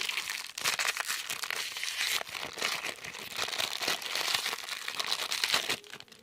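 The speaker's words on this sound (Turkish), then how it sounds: "Şu paketi açalım önce." Plastic toy packaging of an LOL doll being torn open and crumpled, a continuous close, loud crinkling and rustling with brief pauses and sharper tearing bursts, with no talking.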